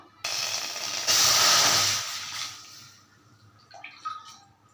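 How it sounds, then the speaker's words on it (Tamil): Water pours steadily into a heavy pan for rice flour dough, a close, hissing splash that swells, then tapers off into a softer trickle and a few faint clinks. "ஒன்றரை பங்கு தண்ணி ஊற்றியாச்சு"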